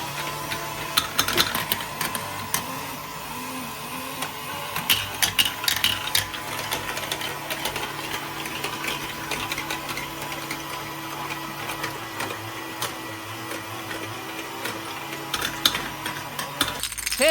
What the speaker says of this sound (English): Let's add a second motorized spiral tower on the right side. Now we have dual elevators running.